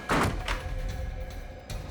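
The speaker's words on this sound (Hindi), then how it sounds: "दरवाजा क्यों बंद किया है?" A door is shut indoors with one muffled, heavy thunk near the start, followed by a fainter knock and a quiet room hum, with no voices.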